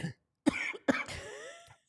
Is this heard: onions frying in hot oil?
no